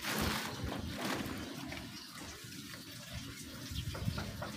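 Steady rushing flow of tap water running close by during stainless steel cleaning, a continuous gushing splash that varies slightly in strength throughout.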